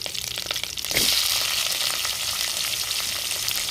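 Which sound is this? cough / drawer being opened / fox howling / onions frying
onions frying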